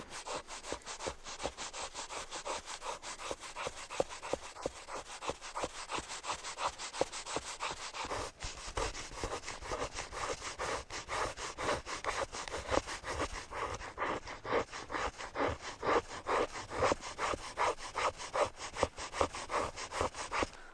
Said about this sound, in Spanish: Lo que haré con el cuchillo es un poco de fricción en las varas de madera para empezar a cortarlas